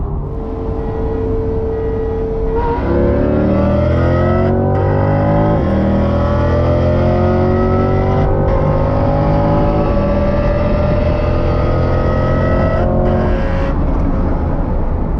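A modified Lamborghini Gallardo or C8 Corvette engine revs hard and climbs through gears, loud throaty exhaust roaring steadily with brief drops between shifts, close by.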